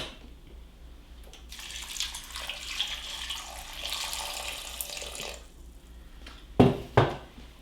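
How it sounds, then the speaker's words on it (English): Water runs from a tap into a pot holding quinces, a steady rushing spray with faint clinks of the pot, then tapering off before two sharp knocks of metal near the end. "we will cover these just barely with water"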